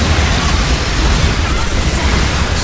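Explosion in the video game Earth Defense Force 5, a loud sustained roaring blast of broadband rumble that fills the whole moment with heavy low-end.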